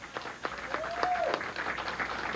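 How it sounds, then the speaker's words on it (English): Audience applause for the runner-up at a candlepin bowling final, a steady spread of mixed clapping that carries through the whole stretch at moderate volume with no one speaking. "a round of applause, please, for our runner-up, Tim Lipke."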